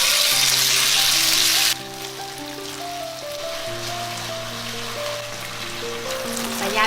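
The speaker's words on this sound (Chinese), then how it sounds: "加入适量的油，油温热了之后，把鸭肉放下来煎一下。" Duck pieces sizzle in hot oil in a flat frying pan, a loud dense crackle that drops back after the first moment to a steadier sputter, with occasional tonal ringing over it.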